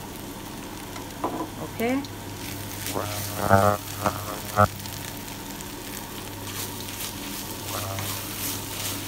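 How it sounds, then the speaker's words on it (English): Ground beef with tomato puree and a whole bottle of pesto sizzles steadily in a frying pan while being stirred, with a few scraping strokes; a person speaks briefly over the cooking. "Right now I'm putting in the pesto inside, the whole bottle of it. Then I stir."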